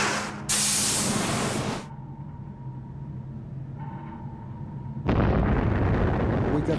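A submarine torpedo launch: a loud hissing rush of compressed air and water bursts out, falls to a low rumbling hum with a faint tone, then a second heavy whooshing surge follows and sustains.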